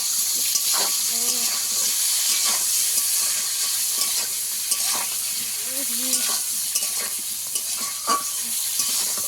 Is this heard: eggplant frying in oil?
yes